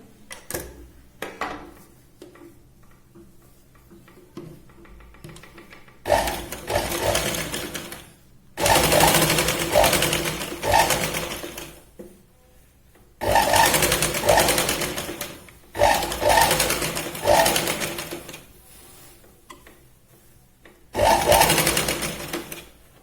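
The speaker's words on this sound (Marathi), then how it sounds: "आपण इथे एक दाब शिलाई लावून घेऊया" An electric sewing machine stitches the neckline of a Punjabi-style dress cut from a sari, running in four loud rapid bursts separated by quiet pauses.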